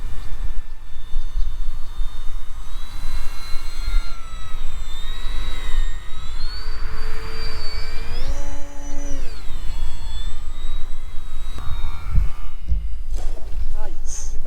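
An airplane engine drones steadily in flight, loud and close, its tone rising and falling in pitch as the throttle changes, with a couple of brief knocks near the end.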